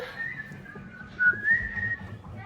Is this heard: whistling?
yes